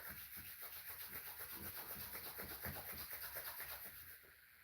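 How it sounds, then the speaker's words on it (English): Hands rub together briskly in a quiet yoga session, making a steady, close swishing friction with a regular back-and-forth rhythm that eases off at the end. "Rub your hands."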